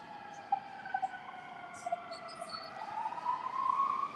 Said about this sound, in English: There's sirens coming again.